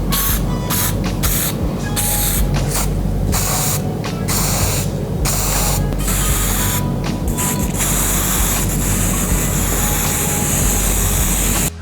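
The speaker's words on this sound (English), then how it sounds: "Don't be afraid to give a nice spray over the areas you're working on." A spray can priming tabletop terrain tiles and buildings hisses in one loud, steady, continuous blast held for the whole stretch, with no breaks and no voices.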